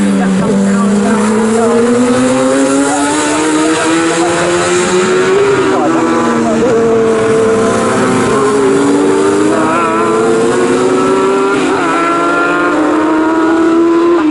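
Sports 1000 race cars scream around the Snetterton circuit in a championship race. Their high, loud engine notes climb and dip as they go through the gears, and several cars overlap in one continuous, close roar.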